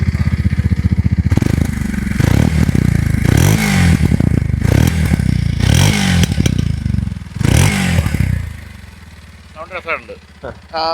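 A Kawasaki motorcycle engine starts and runs close by, loud and steady, with rhythmic surges roughly every second or so before settling into a quieter idle, while a person talks over it.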